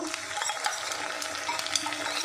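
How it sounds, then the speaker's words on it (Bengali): Onions with ginger-garlic paste are sautéed in a pan, giving a steady close sizzle. Light spatula scrapes and stirring taps sit over the continuous frying hiss. "আদা রসুনের আর পেঁয়াজের কাঁচা গন্ধ যতক্ষণ না যায় ততক্ষণ আমি এটাকে ভালো করে কষাবো"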